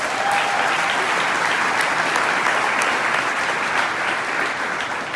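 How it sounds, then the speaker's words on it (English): A crowd at a governor's inaugural ball breaks into loud, sustained applause, dense clapping and a few cheers filling the hall for about five seconds. "let's give her a round of applause"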